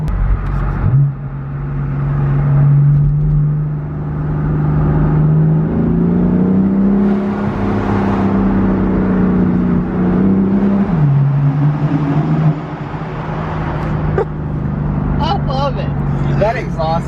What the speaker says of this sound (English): That exhaust sound I was not expecting.